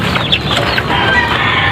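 A brooding hen makes short, close clucking sounds amid a busy background, with no speech.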